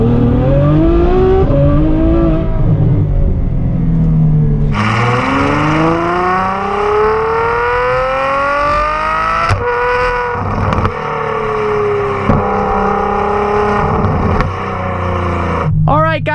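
A Ferrari F12 with no turbochargers or supercharger pulls hard while driving, its engine note climbing steadily in pitch and breaking at a couple of gear changes, loud and close throughout.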